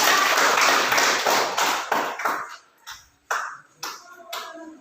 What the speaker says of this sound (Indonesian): Sekali lagi kita berikan tepuk tangan kepada kelompok